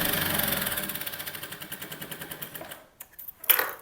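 A sewing machine runs a steady, rapid top stitch along a kurti, its needle clatter regular and close for nearly three seconds before stopping, followed by a few faint handling sounds and a brief rustle.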